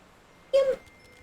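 A cat in a video game gives a single short, clear meow against a quiet background.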